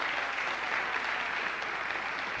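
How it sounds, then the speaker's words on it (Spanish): Audience at an academic conference session applauding presenters, a dense, even wash of clapping that holds steady throughout without any voices. "Un aplauso, por favor."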